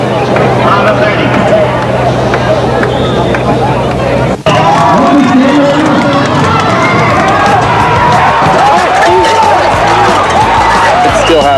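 College rodeo crowd in San Luis Obispo, a steady loud roar of many voices with cheering and babble throughout, briefly dipping midway before swelling again.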